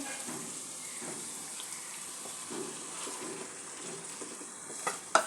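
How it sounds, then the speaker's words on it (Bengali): Mutton pieces added to onions already fried in a pan for a curry with potatoes, giving a moderate close sizzle with soft stirring and scraping, ending in a few sharp clatters. "পেঁয়াজটা আমি 2-3 মিনিট ভেজে নিয়েছি। পেঁয়াজের কাঁচা গন্ধটা চলে গেছে। মাংসটা দিয়ে দেব।"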